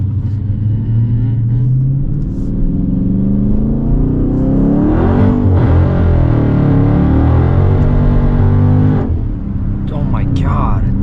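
A widebody Scat Pack car accelerates hard on a rain-soaked road with its tires struggling for grip. The engine is heard from inside as a deep, loud, rising roar that swells and dips through the gears.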